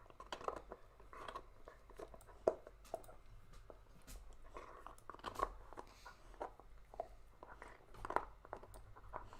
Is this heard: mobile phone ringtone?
no